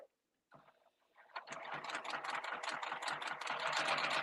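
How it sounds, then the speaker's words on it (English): A sewing machine stitching through fabric layers, with a few faint clicks at first, then a steady, fast mechanical chatter of rapid stitching that carries on to the end. "I'm going to place this under the sewing machine."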